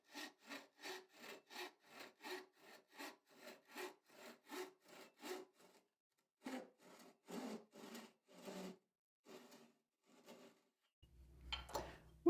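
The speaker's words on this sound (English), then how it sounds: "he will simply use his rip saw to cut carefully to the line" A rip saw cuts wood by hand along a marked line for a joint, a long run of rhythmic rasping strokes, close and clear, followed by a pause and slower, more spaced strokes.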